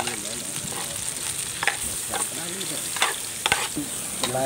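Garlic sizzles steadily in a hot pan as it is stir-fried for a Cambodian sour duck soup with angkhrorng, with a constant loud frying hiss and recurring scrape-like stirring strokes close by.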